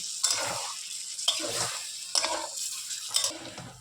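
Okra and potato curry with mustard being stirred in a pan after water is added: four separate scraping, sizzling stirring strokes about a second apart, close and clear, with no talking.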